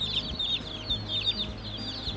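Baby chicks from Cackle Hatchery packed in a shipping box, peeping continuously in a shrill, overlapping chorus of rapid chirps, close and fairly loud over a low background hum.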